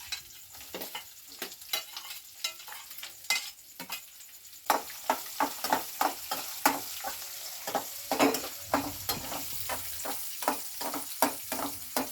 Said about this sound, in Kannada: ಉಳ್ಳಾಗಡ್ಡಿ ಹಾಕೊಳ್ತಾ ಇದ್ದೀನಿ.